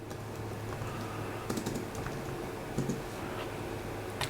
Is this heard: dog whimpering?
no